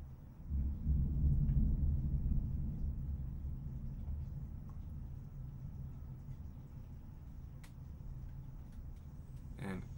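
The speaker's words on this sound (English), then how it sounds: "And there is more lightning and thunder outside." Thunder rolls outside during a storm, a low rumble that swells early on and then fades into a steady backdrop of rain. It sounds muffled and fairly distant.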